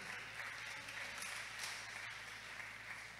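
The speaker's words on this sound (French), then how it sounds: "Thanks for these claps for Lord." A church congregation at a Sunday service claps together in a steady, dense wash of applause that lasts throughout, heard from some distance without pause.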